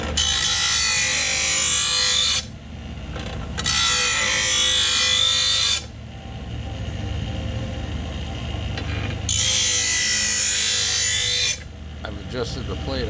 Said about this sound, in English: I've adjusted the plate on this grinder